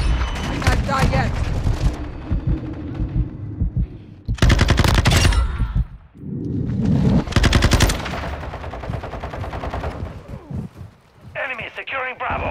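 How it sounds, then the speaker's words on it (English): Rapid machine-gun bursts ring out in a Call of Duty: Modern Warfare II multiplayer match, several loud volleys separated by brief pauses, with game voice callouts and a player talking between them. "Taking effective fire."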